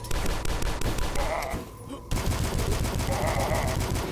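In the video game DUSK, rapid bursts of gunfire crackle continuously alongside exploding barrels, with a brief lull midway before the shooting resumes, loud and close.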